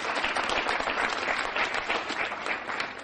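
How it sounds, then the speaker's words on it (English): Audience at an award ceremony breaking into dense, sustained applause, many hands clapping at once, loud and steady for a few seconds. "Give him a nice round of applause for me"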